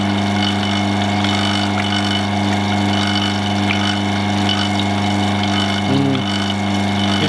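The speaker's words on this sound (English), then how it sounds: "So now let's close the pump." A vacuum pump runs on a vacuum chamber, giving a loud, steady mechanical drone with a constant low hum and a faint burble near the end, and no speech over it.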